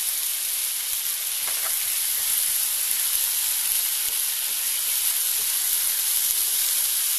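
Homemade schezwan chutney and soy sauce sizzling in a hot pan while making chilli chicken, a steady loud frying hiss that runs unbroken throughout with no voices.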